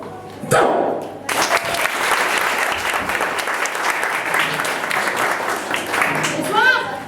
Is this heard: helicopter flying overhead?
no